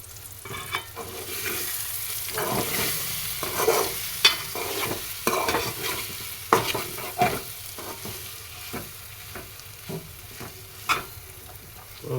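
Brinjal curry being stirred in a pan, repeated scraping and clacking of a spoon against the pan over a soft continuous sizzle, no talking.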